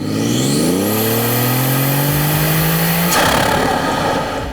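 A BMW F30 340 with a B58 engine and an aftermarket MST intake revs up smoothly, pitch climbing and holding high with a strong intake roar, then drops off abruptly into a rumbling idle.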